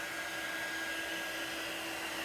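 Hair dryer blowing on a chalk-decorated graham cracker craft, a steady close airy whoosh with a constant motor whine, heard alone.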